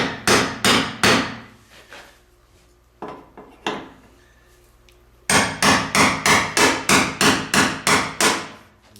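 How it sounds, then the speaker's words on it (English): Hammer blows on a chisel to turn the fuel pump lock ring of a 1999 Ford Taurus, sharp metallic strikes in bursts: four quick hits, a pause with a few scattered taps, then a rapid run of about a dozen, close and loud. "Take your chisel and put them right in here, and then go in a counterclockwise direction."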